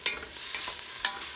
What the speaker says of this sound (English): sauteing my onions until they're, soft and translucent over medium heat